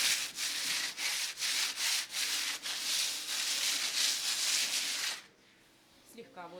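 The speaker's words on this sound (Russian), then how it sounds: "Берем шкурочку и шлифуем." Sandpaper rubbed by hand over dried textured decorative plaster on a wall, a steady rhythmic scratchy rasp of repeated strokes close by for about five seconds, then stopping into quiet.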